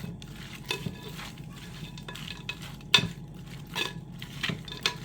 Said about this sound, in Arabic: هقلب بقى كل دول كده مع بعض تقليب كويس